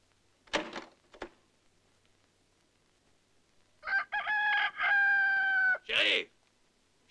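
A rooster crows once in a long, harmonic call, heard close and loud against a quiet rural Western scene, with a couple of short thumps just before it.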